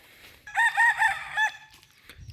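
A single rooster crows loudly and close at a forest temple in the early morning, giving one full cock-a-doodle-doo lasting about a second over a quiet background.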